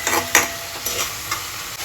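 Masala gravy for matar paneer cooks in a pan with a soft sizzle and a few stirring scrapes, close up and brief, without any talk.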